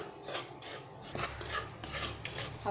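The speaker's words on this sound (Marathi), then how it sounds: "याला तेल न टाकताच भाजायचं आहे मंद गॅसवर करायचं आहे" Semolina (rava) dry-roasted without oil over a low flame for karanji, giving soft repeated scraping and rasping strokes of a spatula stirring grains in a pan, close and steady with no talk.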